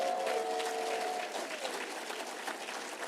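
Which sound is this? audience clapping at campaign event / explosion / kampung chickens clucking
audience clapping at campaign event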